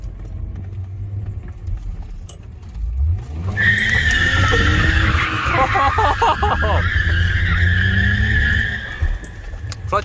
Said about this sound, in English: We're already here going in circles, might as well just go sideways.